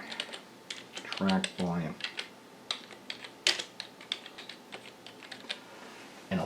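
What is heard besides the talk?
typing on a computer keyboard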